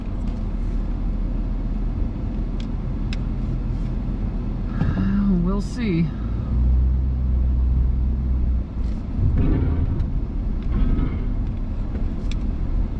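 A vehicle's engine rumbles steadily as it drives onto a scrap yard scale, with a continuous low drone throughout while a person speaks briefly over it.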